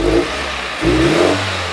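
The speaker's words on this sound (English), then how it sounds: "let's snap the throttle" A car engine revs sharply twice as the throttle is snapped open during sensor testing, each burst rising loud and close before dropping back toward idle.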